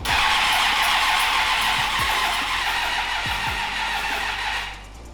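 A lawnmower engine cranks over on brake cleaner without catching, a loud steady whirring churn with a few dull knocks, cutting off abruptly near the end.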